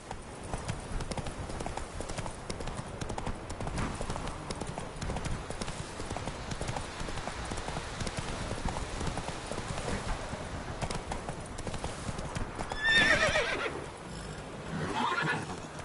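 Hooves of Roach, a horse in The Witcher 3, clip-clop steadily at a gallop throughout, with a sharp neigh near the end, then a softer whinny.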